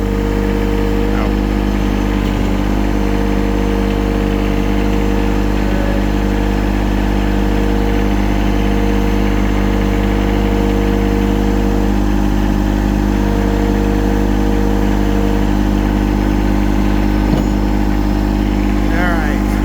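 A tractor engine idles steadily and loud up close throughout, a constant mid-pitched drone while a mower that quit is hoisted onto a trailer.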